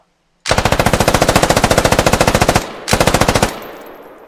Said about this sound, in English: Automatic riflemen and machine gunners carry a machine gun like this to the field.